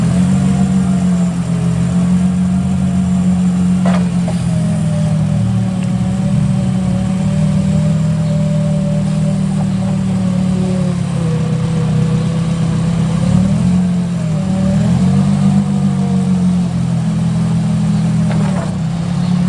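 A Caterpillar V35D 3,500 lb pneumatic tire forklift engine runs steadily and loudly nearby, a constant low rumble with slight rises and dips in speed.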